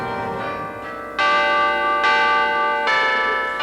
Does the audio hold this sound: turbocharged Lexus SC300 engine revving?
no